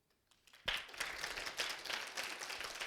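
At a C++ programming conference talk, a near-silent hall breaks into a sudden burst of audience clapping that holds as a steady, dense patter to the end.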